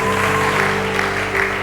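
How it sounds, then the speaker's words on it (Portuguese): Applause rises from a congregation at a church worship service, a steady continuous wash of clapping over sustained musical tones that runs without break. "Aplauda fortemente para Deus."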